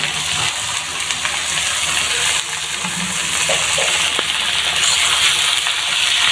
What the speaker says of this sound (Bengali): পেঁয়াজ এবং মরিচগুলো ভেজে নিচ্ছে পেঁয়াজ রসুনগুলো ভাজা হয়ে গেছে এবার আমি শাকগুলো দিয়ে দিচ্ছি